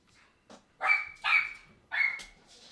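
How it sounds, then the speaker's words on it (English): A dog barks three times in quick succession, loud and close, after a brief softer yelp. "All I hear is a damn dog barking."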